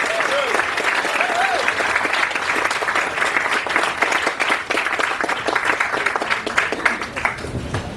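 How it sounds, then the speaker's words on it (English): An audience at a foundation's living-legends tribute night applauds steadily and loudly, with a few whoops and cheers rising through the clapping. "Let's hear it once again for Rod McGrew"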